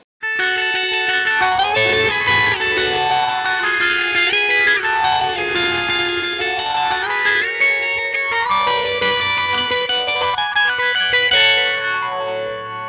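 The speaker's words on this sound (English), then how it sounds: "with a real emphasis on the whammy and the delay" Electric guitar through whammy, delay and a Phase 90 phaser swirls with a sweeping phase, pitch-bending warbles and echoing repeats, loud and continuous, no voices.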